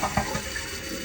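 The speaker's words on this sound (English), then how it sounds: "So let's do a test flush" Toilet tank test flush after a new fill valve was installed: a steady rush of water runs for about a second, moderately loud and close, with no voices.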